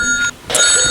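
A telephone rings close by, loud electronic trilling tones that break off briefly and then resume, with no talking over it.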